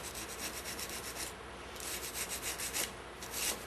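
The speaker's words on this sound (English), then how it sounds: "we can just scrape this off" A flat-held scraper rasps over a metal part of a Meyer E 47 (Neumann-style) microphone being rebuilt, a continuous close scratchy rubbing in uneven strokes with no speech.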